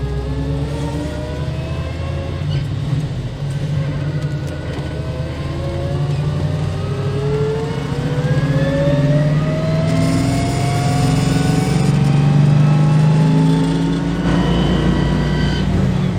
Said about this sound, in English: Very distinctly when you're going up a hill, it makes a very big whine